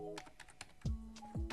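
Quick keystrokes tap on a computer keyboard in a short burst of light clicks, close by, with a voice briefly heard between them.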